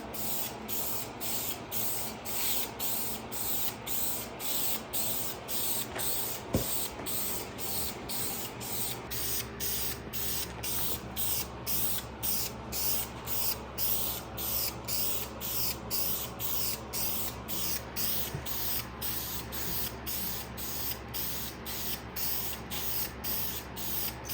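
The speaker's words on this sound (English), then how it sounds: "let you guys listen to these glorious Rattle-Can noises" Rattle-can spray primer hissing onto a Fender guitar body in steady, closely miked bursts, with faint mechanical clicks and a low background hum throughout; no talking.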